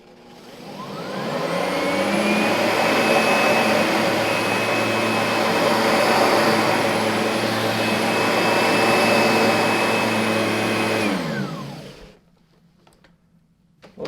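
An Oreck Discover upright vacuum cleaner runs on carpet picking up pet hair, a loud steady whine with a rising tonal pitch as the motor spins up, holding for about ten seconds before winding down to near silence.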